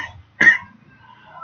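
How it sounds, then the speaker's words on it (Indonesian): A teacher gives a single short cough partway through a geometry lesson, close and fairly loud, with quiet room tone before and after. "Bapak lagi batuk."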